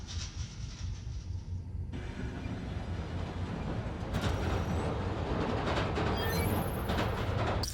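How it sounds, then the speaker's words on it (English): Train rumbling past in the video game Spider-Man: Miles Morales, a steady low roar that swells louder midway with rattling and higher squealing tones, no talk over it. "Right, now we just wait for another train."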